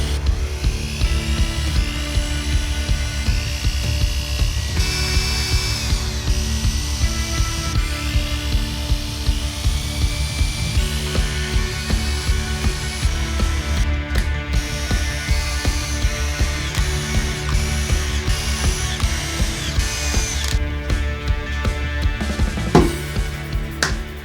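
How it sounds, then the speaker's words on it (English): A power drill whines continuously while drilling guide holes and driving screws into a DIY weight plate rack, its pitch rising and falling, with brief pauses and a clack near the end. "drill some guide holes on the other side, screw those in"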